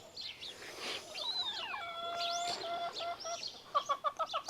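Backyard chickens clucking and calling nearby, with drawn-out squawks and trills followed by a quick run of short, rhythmic clucks near the end.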